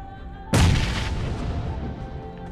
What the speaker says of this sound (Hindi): मैं यहाँ से ग्रेनेड पुल कर लेता हूँ और एकदम परफेक्ट जाएगा